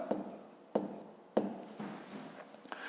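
A pen or pencil writes by hand in a fifth-grade maths exercise book. Short scratchy strokes come in a few distinct bursts, close and quiet, with no talking over them.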